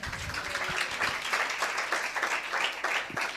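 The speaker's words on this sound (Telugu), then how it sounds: "నేను క్లాప్ ఫర్ యువర్ సెల్ఫ్ అంటున్నాను" An audience at a church sermon claps in a dense, continuous burst of applause that stays steady throughout, moderately close.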